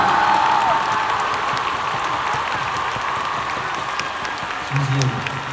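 Steady concert crowd applause at a concert fills the whole stretch, dense and continuous at an even level, with a faint voice briefly showing through near the end.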